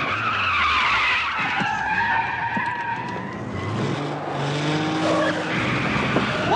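A car in a 1978 action drama brakes hard and its tires squeal in long, loud skids. Engine noise runs underneath as the squeal rises and falls across several seconds, with no voices.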